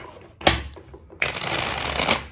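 A deck of tarot cards is riffled twice close up: a short sharp flutter, a pause, then a longer continuous riffle that ends in a soft settle.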